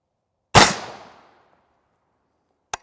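A single loud, close .300 Win Mag rifle shot firing an armor-piercing round at Level IV body armor: a sharp blast with a roar that dies away over about a second, then a faint click a couple of seconds later.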